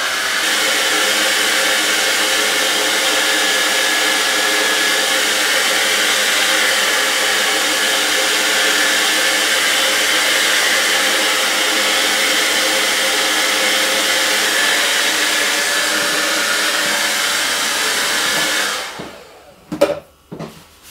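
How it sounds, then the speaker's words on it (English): A hair dryer on high heat blows steadily and loudly at close range over waxed poncho fabric for about eighteen seconds, then cuts off, leaving a few brief handling knocks. "So let's get the hairdryer on it."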